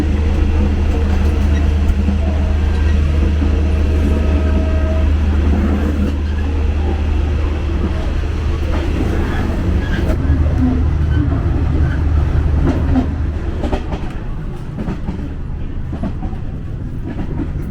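Thai sleeper train rolling along rails on a long-distance journey, a steady loud low rumble with faint rhythmic clatter throughout, easing slightly near the end.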